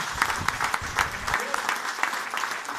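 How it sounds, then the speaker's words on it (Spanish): A church congregation claps in a steady rhythmic beat, a dense close patter of many hands praising the Lord, with a voice speaking over the first part. "Aplaudimos al Señor."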